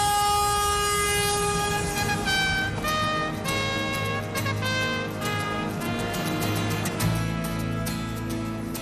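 A loud, sustained train horn blares over the rumble of a moving train, holding a steady chord with slight shifts in pitch.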